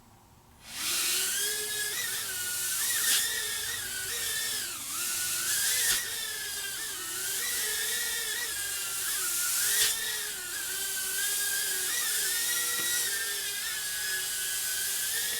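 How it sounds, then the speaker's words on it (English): A tiny micro FPV racing drone, a Tiny Whoop clone, whines loudly and continuously with a high buzzing pitch that rises and dips with throttle as it flies around a bedroom, audible throughout with no talk. "we're going to try to fly FPV in GB Linden's studio, aka his bedroom."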